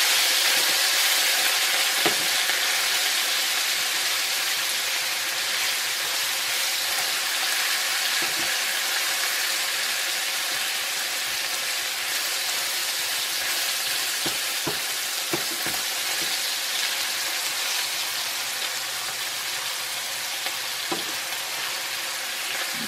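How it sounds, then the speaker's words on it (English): Meat for spaghetti browns in a hot pan with a continuous, steady sizzle and frying crackle throughout, a few louder pops and spatters standing out against the constant hiss. "Just browning my meat."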